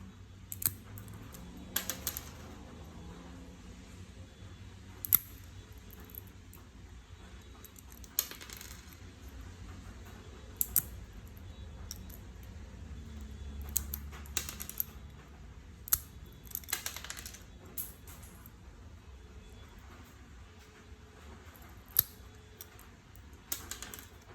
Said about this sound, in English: I basically just cut the bulk of the length off